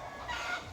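Large native chickens on a provincial farm give a short burst of clucking, soft and fairly near, with no other sounds around it.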